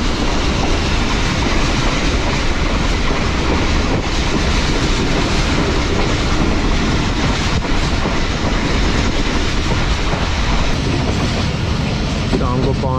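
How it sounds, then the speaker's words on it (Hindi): Musa Pak Express passenger train running on rails, a loud, steady rumble with continuous rhythmic clatter of wheels over track joints, heard close from on board throughout. "बज के 40 मिनट हुए हैं और ट्रेन हमारी पहुंच चुकी है चीशावतनी रेलवे स्टेशन पर।"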